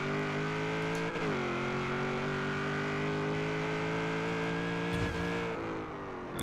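A 1000-horsepower SN95 Ford Mustang drag build in Forza Horizon 3 is held on the trans brake at high revs, giving a loud, sustained, buzzy engine drone with two brief dips before it surges as the car launches.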